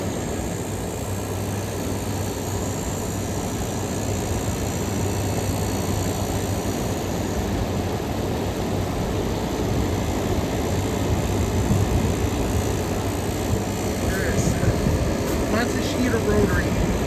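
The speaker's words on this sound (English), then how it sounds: "The compressor just kicked on." A Matsushita rotary air conditioner compressor runs outdoors on a hot day, giving a steady low hum under continuous fan noise with no clear change through the stretch.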